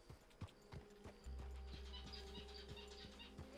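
Hooves of a horse ridden at a steady pace in Red Dead Redemption 2, rhythmic clip-clop beats repeating evenly, moderately close, with birdsong and ambient wilderness sounds in the background.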